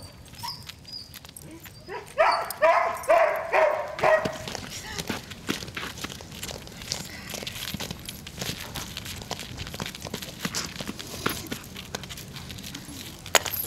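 Siberian Huskies bark, yelp and whimper in an excited chorus before a dog sled ride on an icy day at Pocono Manor, with a loud burst early on, then scattered barks, footsteps and faint voices.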